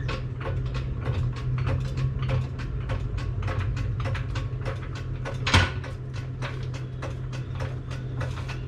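A jack lifts a 1955 Chevy 210 gasser, with rapid, even ratcheting clicks from the pawl mechanism close by and one louder clunk midway, steady and without speech.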